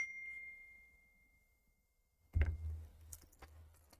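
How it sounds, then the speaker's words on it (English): A single soft text-message notification ding rings and fades, followed by near silence and then scattered clicks and handling noises. "I got the text message"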